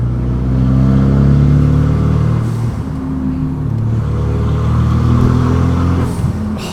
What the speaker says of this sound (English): under the hood of this car is a 2-liter 4-cylinder engine that is turbocharged